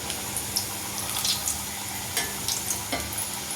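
Spiced pumpkin puri dough frying in hot oil over a medium flame gives a steady close sizzle with light stirring clicks and bubbling bursts, and no one speaks.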